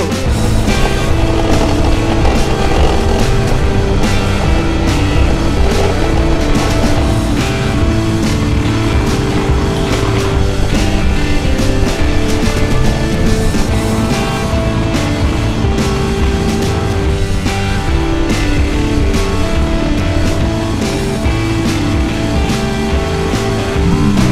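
A loaded motorcycle rides along a road in Oman, a loud, unbroken roar of engine and wind rushing past without a break from start to finish.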